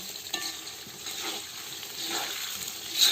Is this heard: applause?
no